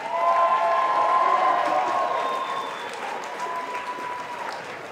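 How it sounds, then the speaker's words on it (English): A crowd applauds and cheers at an amateur MMA event, loud and sustained clapping that fades slightly over the seconds, with a faint voice underneath. "A round of applause for these warriors."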